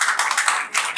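An audience at an open mic poetry night in Delhi claps in a brief, dense burst of many hands, loud and close, with no talking.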